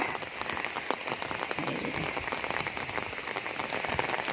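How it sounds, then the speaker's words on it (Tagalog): Steady rain patters densely on a surface, a constant close hiss with scattered distinct drops. "Ulan na mga ka-friendly, oh. Agoy, nabutan na ako ng ulan."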